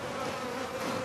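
A swarm of honey bees settling into a new hive site at a rural farm in Youyang, Chongqing, buzzes as a dense, steady drone, close and continuous, with no talking.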